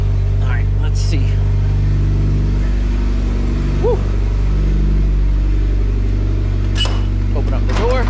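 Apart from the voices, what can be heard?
Mitsubishi Evo X MR engine running with exhaust leaks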